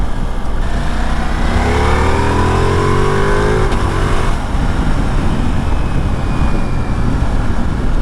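A 2021 Ducati Multistrada V4 S motorcycle in sport mode accelerating hard on the road, its engine rising in pitch through the revs with a loud, close roar over buffeting wind noise, with no speech.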